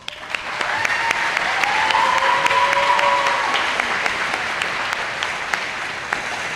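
Sustained audience applause at a county FFA chapter banquet, a dense wash of many hands clapping steadily throughout, fairly loud and filling the room, with faint voices mixed in.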